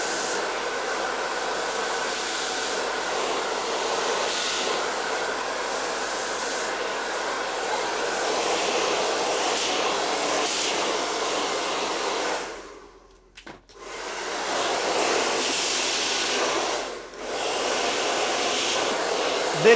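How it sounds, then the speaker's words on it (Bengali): A handheld hair dryer blows continuously at close range while hair is rolled and styled at a barbershop, with its whoosh dipping briefly twice as the airflow is blocked or moved. "আমি ডান হাত দিয়ে ড্রায়ার করছি গাইজ, এবং বাঁ হাত দিয়ে আমি কিন্তু এটাকে রোল করছি।"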